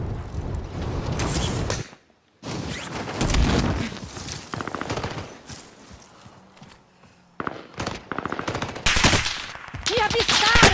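Online Call of Duty MW match with loud, close machine-gun bursts and rapid gunfire, broken by a short silence, with footsteps and mechanical clatter between the volleys.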